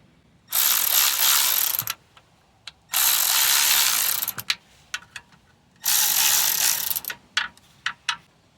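A ratchet cranks out 10mm bolts on a Hyundai timing chain cover, three loud bursts of rapid, close clicking separated by pauses and a few single clicks and taps.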